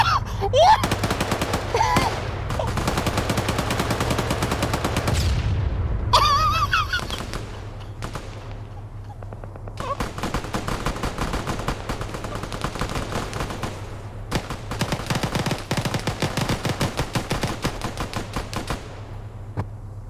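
Sustained machine gun fire in an OFCRA Lithuania versus Poland PvP game match: dense, loud bursts of rapid shots with brief pauses, then sharper, more spaced volleys of gunfire continuing to the end.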